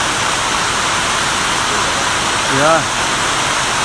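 Heavy outdoor rainfall makes a constant, full hiss, and a brief voice rises above it near the end.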